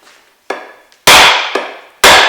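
An axe head is struck onto a wooden handle, producing five sharp, loud percussive knocks with clear ringing decays, spaced about half a second apart.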